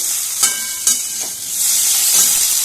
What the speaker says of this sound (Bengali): এবার এই হাফ সেদ্ধ করে রাখা আলুটা আমি মিশিয়ে দিলাম একটু সাথে ভেজে নেব